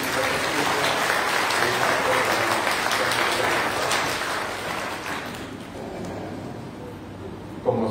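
A church congregation at a Sunday service applauds for the children with sustained, dense clapping. The applause starts loud, then gradually thins and softens toward the end.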